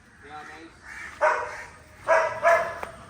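A dog adopted from a shelter barks in a few sharp, close bursts spaced about a second apart, with voices murmuring in the background.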